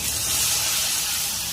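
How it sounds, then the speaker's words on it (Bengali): Jackfruit kofta balls coated in cornflour sizzle in hot oil, a steady, dense hiss of frying that stays close and even throughout with no pauses. "এইগুলো একটু ভালো করে ভেজে নেব।"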